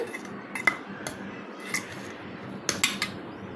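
A spoon mixing spices together in a bowl for an egg dish, giving sharp metallic clinks and taps at irregular intervals over a quiet scraping background, close and clear with no talk.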